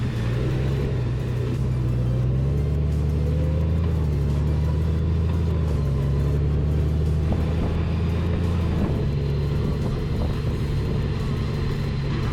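A 2020 Honda GoldWing Tour DCT motorcycle on the move, a steady low engine drone with wind rumble, pitch easing and shifting slightly as it rides, continuous and close, no voices.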